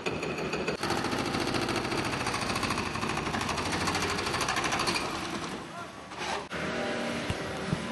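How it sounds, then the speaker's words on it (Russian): A tracked demolition hammer breaks up a building on a city street in Belgrade, Serbia, giving a loud continuous rapid pounding that dips briefly near the end before resuming. "Вот это перфоратор, да? На гусеницах."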